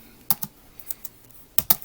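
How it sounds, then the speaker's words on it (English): Quick keystrokes on a computer keyboard clack up close in two short bursts with a few scattered taps between, crisp and distinct against a quiet background while typing code in R Studio. "So I'm going to type data set"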